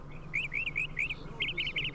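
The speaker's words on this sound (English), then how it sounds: "All these birds outside are giving me such a headache." Birds chirping outside in the game You Don't Know Jack, a quick series of bright, close tweets in two short bursts over a quiet background.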